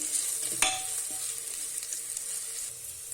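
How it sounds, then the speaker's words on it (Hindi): Chilli powder, turmeric and coriander powder being stirred into hot oil in a pan for a black chickpea curry, a steady close sizzle with a sharp spoon scrape near the start and no talking. "सभी को मिक्स कर लेंगे।"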